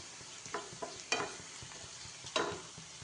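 Onion, ginger, green chili and curry leaves fry in a pan for ragi upma, with a soft sizzle under a few sharp scrapes and stirs of a spoon against the pan.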